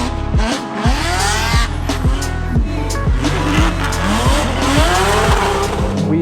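A drift car races in the Formula Drift Atlanta finals, its engine roaring loud and close as it bounces off the rev limiter in rapid repeated revs, with tires squealing and skidding throughout.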